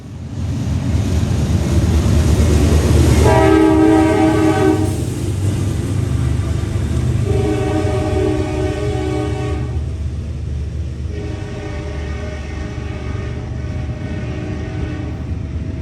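CSX manifest freight M332, hauling BNSF locomotives and gensets, rumbles past loudly with a long steady roar while its horn sounds two prolonged, harmonic blasts over the passing train.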